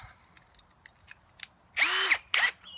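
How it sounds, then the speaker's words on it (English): A power drill with a 13/16 bit bores holes through a plastic bucket tube, two loud whining bursts close up after a few faint clicks and taps. "I'm going to drill 2 holes on each side of this tube"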